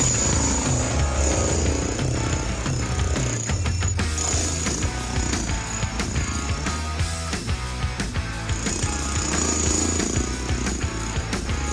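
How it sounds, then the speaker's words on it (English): An electric jackhammer breaks up a solid concrete deck damaged by a water leak, hammering loudly and continuously at close range with rough, rapid pounding throughout. "he's trying to figure out how to turn this electric jackhammer on"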